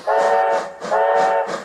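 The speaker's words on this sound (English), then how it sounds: "With much blowing of steam, Shima began to leave oddly quickly" A steam train whistle blows in two long, loud, harmonic blasts close by, each with a breathy hiss of steam trailing off as the train begins to leave.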